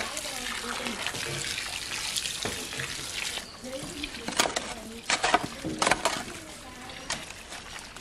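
Water is poured out onto soil to mix it, splashing and trickling in uneven bursts with several sharp spatters toward the end, fairly quiet and close.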